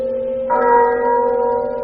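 A church bell tolls the half hour with a single loud, near stroke, its rich tone ringing out and lingering.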